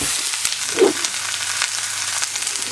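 Spinach wilts in a hot frying pan with a continuous, even sizzle and light crackling, plus one brief soft knock near the start.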